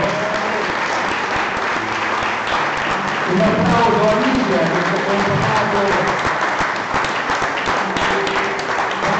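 An audience at an Italian book presentation claps steadily and warmly throughout, while someone talks over the applause in the middle.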